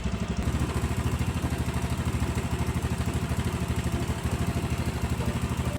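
A small Yamaha Mio motor scooter engine with a noisy, grinding-sounding fault runs at a steady, loud idle with a fast, even rattling throb.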